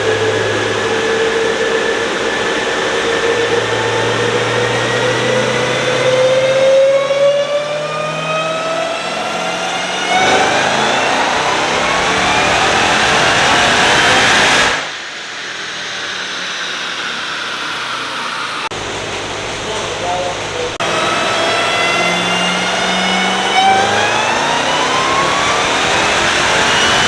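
A 2020 Jeep Trackhawk's engine revs and pulls loud and close in repeated runs, each climbing in pitch before dropping back and building again.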